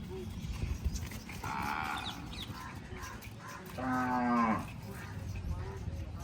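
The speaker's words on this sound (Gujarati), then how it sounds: "ચાલો ભાઈ દશાભાઈને ત્યાં જઈ રહી છે આપણી ગૌ માતા." A cow, a Kankrej breed, moos close by in a farm setting, with one softer low call followed by a louder, longer moo over quiet rural background noise.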